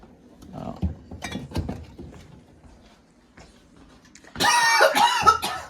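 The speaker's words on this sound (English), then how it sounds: "I coughed" A person coughs a few times, sharp and fairly close, amid quiet handling noises, followed by a louder burst of voice.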